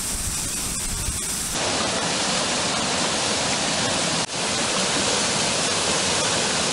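Constant roaring rush of Domke Falls on Lake Chelan, Washington, close and loud, a dense unbroken wash of falling water.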